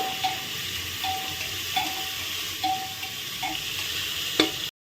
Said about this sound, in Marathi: मिठाने कांदा लवकर फ्राय होतो